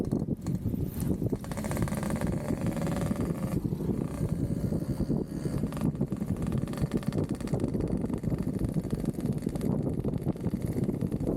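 A motorcycle riding slowly along a slick, muddy mountain road in rain at Puncak 2, a continuous low engine rumble with rough, bumpy noise throughout.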